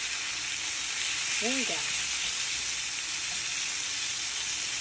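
Honey Cajun salmon fillets fry in a pan with a steady broadband sizzle and hiss that runs throughout, while a short spoken remark briefly rises over the frying.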